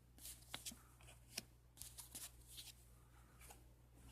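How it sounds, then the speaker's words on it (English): A deck of playing cards is shuffled during a tabletop card game, giving several quick, soft riffling bursts that are close but quiet, with no one talking over them. "I shuffled those back into the deck"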